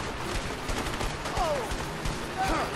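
Gunfire aimed at the player in the video game A Way Out, rapid overlapping shots in a continuous fusillade, with a person speaking over the shooting.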